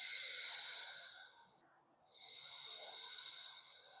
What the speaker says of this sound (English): in yoga, they teach the ujjayi breathing, which is the breath of the ocean, where you're pinching the back of your throat.